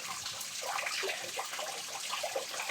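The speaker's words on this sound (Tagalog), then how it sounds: "may tumutulo dyan oh" Water drips and trickles in a place where a snake is being watched. The faint, steady wet patter continues without any talking.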